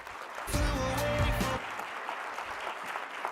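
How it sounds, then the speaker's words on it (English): A short burst of applause lasting about a second, with a voice over it, then fading into room noise. "give a roaring round of applause to PJ for joining us here today"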